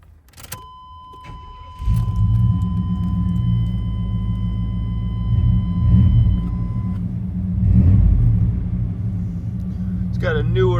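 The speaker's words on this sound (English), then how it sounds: "And the mufflers, nice dual exhaust system. Sounds great." A 1994 GMC Sierra 1500 shortbed single-cab 4x4 pickup with a newer dual exhaust and replaced mufflers idles with a steady low rumble that swells briefly a few times, after a few faint clicks at the start.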